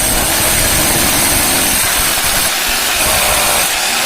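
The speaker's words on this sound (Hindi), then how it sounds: "वो होल दोस्तों आपको किस तरह से लगाया जाता है, ड्रिल के मदद से आपको यहाँ पे" Electric drill boring a hole into a wall for an air conditioner installation, a loud, steady, close-up grinding whir that runs continuously with no talk.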